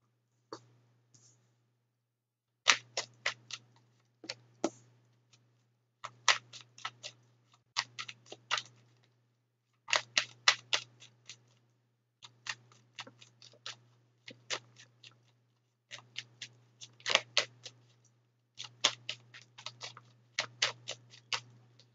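Tarot cards being shuffled in bursts of quick, crisp flicking and riffling, repeated many times with short pauses between, close and fairly quiet over a steady low hum.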